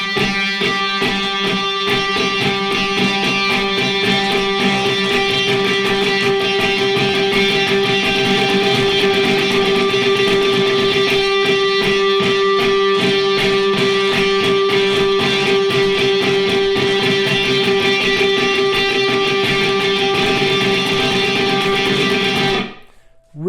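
A guitar repeats one note in a blues lick in E, its rhythm shifting throughout as a steady, loud, sustained stream of picked tones that stops abruptly at the end.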